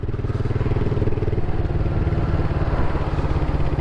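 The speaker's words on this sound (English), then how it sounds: "Love the exhaust note on this aftermarket exhaust system" A Gold Star 650 Scrambler motorcycle with an aftermarket exhaust rumbles steadily with a deep, throaty exhaust burble, loud and close, running continuously without pause.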